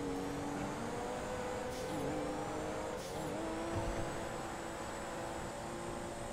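A fast car races in the GTA RP video game, its engine holding a steady, sustained drone at close range with faint hints of tire squeal, and no talking.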